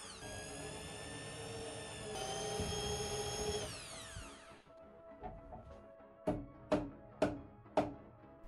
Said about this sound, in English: Then we drill the corresponding holes into the floor.